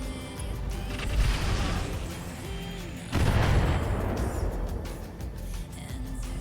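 Mortar fire in the Battletech Roguetech mech game: deep, rumbling booms and artillery-like blasts, with a strong impact surge midway, dense and loud over a steady low battlefield drone.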